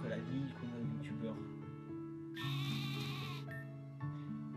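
Sheep bleating in several wavering calls, one loud high bleat in the middle standing out over steady low tones and voices talking underneath.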